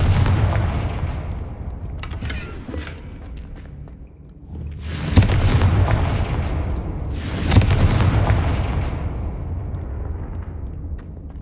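Spell explosions from the Hogwarts Legacy video game, cast with Bombarda and Confringo: two loud, heavy blasts, each with a sharp burst and a long rumbling decay, over a steady low background rumble.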